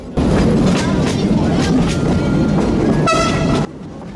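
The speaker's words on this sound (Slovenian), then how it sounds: "Vlak je na postajo Šargan-Vitasi pripeljal po voznem redu." A museum heritage train on the Šargan Eight railway rolls into Šargan-Vitasi station with rhythmic clattering and a rumbling hum, then a horn sounds briefly near the end before the noise cuts off.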